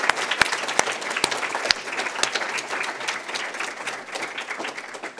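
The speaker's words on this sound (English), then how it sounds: "Skousen another round of applause" An evening conference audience gives another round of applause for economist Dr. Mark Skousen: loud, close clapping with a few sharp standout claps early, then a dense roar that eases slightly toward the end.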